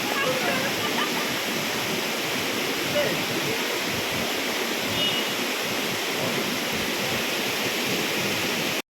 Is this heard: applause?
no